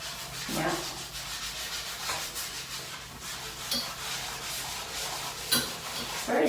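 A damp Mr Clean Magic Eraser scrubs paint off a surface, giving a steady close scratchy rubbing that runs throughout with a few brief louder scuffs.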